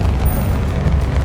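Fiery Confringo spell blast in Hogwarts Legacy, a short dense rumbling burst sustained at steady loudness for about a second amid ongoing game noise.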